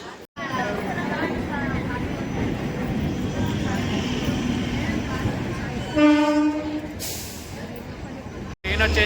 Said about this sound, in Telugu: ఈ ట్రైన్ వచ్చేసి మొత్తం అవుటర్ నుంచి వస్తుంది